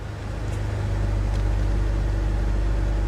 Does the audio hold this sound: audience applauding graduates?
no